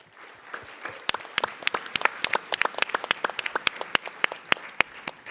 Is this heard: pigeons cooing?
no